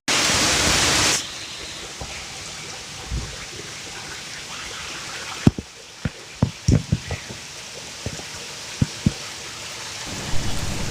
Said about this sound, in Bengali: আজকের বৃষ্টিটা না দারুণ ভাবে পড়ছে